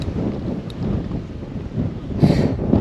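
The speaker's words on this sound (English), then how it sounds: "It's raining a bit and a bit windy" Rain and gusting wind buffet the microphone beside a fishing lake during a stormy session, a steady broadband rush that swells louder near the end.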